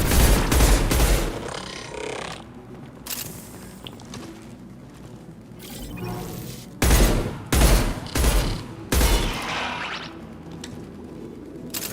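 Rapid bursts of weapon fire from the video game Mass Effect 2, Legendary Edition, come in loud clusters at the start and again in repeated volleys later, with quieter combat sounds between.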